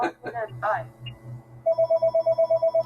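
A telephone rings partway through a conversation about walleye fishing, its electronic ring repeating in a steady, even pulse of about a dozen short tones, loud and clear after talking stops.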